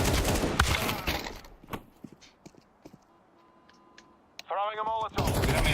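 Gunfire in the video game Counter-Strike 2: a loud burst of rapid shots at the start, scattered single shots and clicks through a quieter middle, then heavy firing again at the end, with a voice talking over parts of it.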